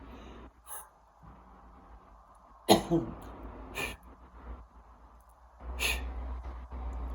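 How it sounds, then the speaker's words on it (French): A person blows three times into a drinking glass during a home love ritual, giving a few short, breathy, hollow gusts separated by quiet pauses, close and fairly soft. "vous allez souffler 3 fois dans le verre"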